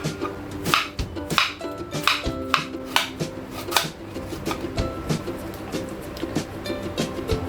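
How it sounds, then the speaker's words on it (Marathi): Knife finely chopping cabbage on a board for homemade Chinese bhel, a rapid irregular series of sharp close taps with no speech. "असा बारीक कापून घ्यायचा आहे हा मी आता कापून घेते"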